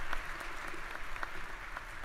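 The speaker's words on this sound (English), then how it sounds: "Would you please help me give them a round of applause?" Applause from the audience at a spring university commencement ceremony, a steady wash of clapping hands held at an even level for the whole moment with no voices over it.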